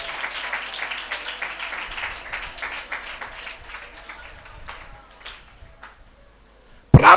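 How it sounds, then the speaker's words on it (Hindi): A church congregation claps loudly in thanks to God, with a dense burst of applause that gradually thins and fades out, followed by a sudden loud thump at the end. "जोरदार ताली बजाकर हम परमेश्वर को धन्यवाद करें।"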